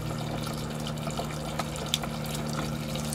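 Water drains from the low point drain lines under a Dutchmen RV, a steady, moderately quiet rush and trickle with no talking over it.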